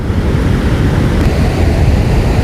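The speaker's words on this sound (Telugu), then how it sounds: "ఇప్పుడు మీకు వాటర్ ఫాల్ ఏ విధంగా ఉన్నదో చూపిస్తాను" Water pours over rock at Valasampeta waterfall in a steady, loud, broadband roar, with no voices.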